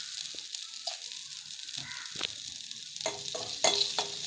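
Chili peppers sautéing in a pan with a soft, steady sizzle of frying and a few sharper crackles and pops near the end, fairly close and on their own.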